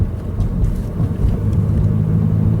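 A car with a manual six-speed gearbox rumbles low and close while driving through gear shifts, engine tone shifting slightly as it pulls steadily.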